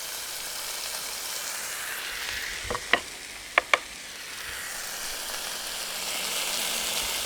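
Fish crisping in a frying pan gives a steady, low sizzle the whole way through, with a few sharp clicks and taps of a utensil near the middle as a piece is flipped.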